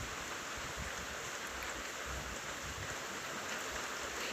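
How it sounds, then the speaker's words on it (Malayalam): Heavy rain driven by strong wind, a steady, dense rushing wash of water that holds constant throughout, close and enveloping with no voices. "ഭയങ്കര മഴയാണ്. ഇതിപ്പോൾ ഇന്ന് മൂന്നാമത്തെ മഴയാണെന്ന് തോന്നുന്നു. നല്ല കാറ്റുമുണ്ട്."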